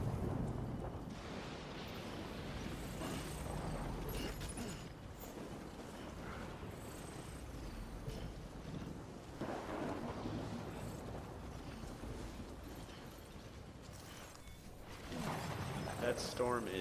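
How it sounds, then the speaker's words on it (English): Storm wind roars and gusts continuously in the video game Death Stranding, a broad rushing noise that swells and eases over about seventeen seconds, with no distinct thunderclap standing out. "wow, look at that storm."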